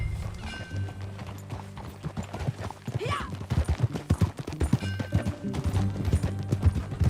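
Horse hooves in Red Dead Redemption 2 clip-clop in a quick galloping rhythm, close and steady, with a whinny partway through and a brief spoken word.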